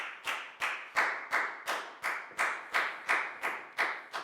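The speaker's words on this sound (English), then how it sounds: "Big round of applause for Nadia, please, guys" Sharp rhythmic clapping in a classroom, about a dozen even claps at a steady pace, crisp and close, with no voices.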